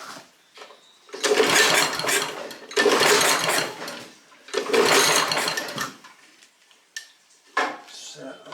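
A neglected Honda F810 rotavator's engine bursts into three loud, rattling surges of a few seconds each, with a few short clanks and knocks between them, close by.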